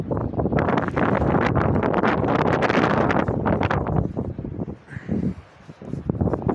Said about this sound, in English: it's also windy though